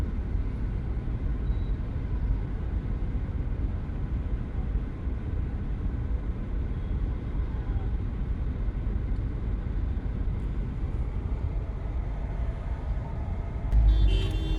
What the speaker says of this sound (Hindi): अब ट्रैफिक चला है, वो बेचारा उधर गया है, उस साइड पे चला गया